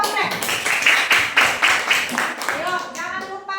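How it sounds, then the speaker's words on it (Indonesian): A primary school class applauds a student group after their presentation, with quick rhythmic clapping in bursts mixed with children's voices and a teacher talking. "Oke, tepuk tangan dulu untuk kelompok Anggrek."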